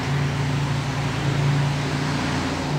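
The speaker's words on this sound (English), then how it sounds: "Ooh, lovely farting car." A car with a sputtering exhaust drones steadily nearby as it passes, a low rumbling hum holding for about three seconds with no voices.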